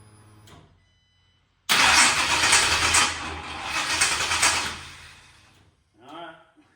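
A 1955 Chevrolet engine with aftermarket fuel injection cranks and then catches, roaring loudly for a few seconds before settling, with faint speech before and after.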